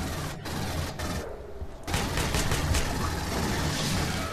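Pump shotgun blasts and surrounding combat noise in Aliens: Colonial Marines, a few sharp booming shots amid a dense, roaring wash of game sound with no voices.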